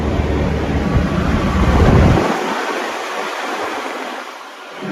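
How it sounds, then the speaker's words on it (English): A 1994 Trailmobile trailer refrigeration unit blows air through the trailer. A loud, steady rushing whoosh sits close to the microphone, with heavy low rumble that drops away partway through while the airy hiss continues. "I know you can't see it blowing, but you can hear the wind being pushed through."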